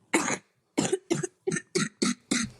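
A string of seven coughs, close and fairly loud, each a short harsh burst with brief pauses between, the first one longer.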